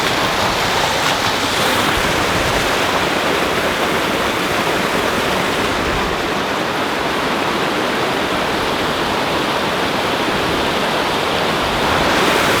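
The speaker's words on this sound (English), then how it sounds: "Getting sprayed by the waterfall already." Bridal Veil Falls near Clark, Wyoming roars in a steady, loud broadband rush of falling water, close up and continuous throughout with no voices.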